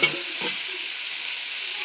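Onions sautéing in a pan, a couple of quick stirring scrapes at the start giving way to a steady, even sizzle close by, without any voices.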